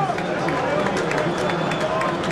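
Stadium crowd applauding as a substituted player leaves the pitch during the Internacional vs Grêmio Campeonato Gaúcho 2010 final, a dense continuous roar of clapping and cheers, loud and steady, with commentary talk over it.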